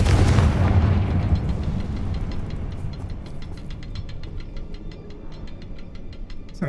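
Blasts from the Confringo fire spell in Hogwarts Legacy: a heavy burst that booms and then fades into crackling debris, with faint ticking effects behind it.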